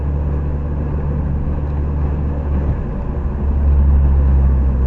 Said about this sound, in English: No funny engine noises, which is always excellent after changing the timing chains.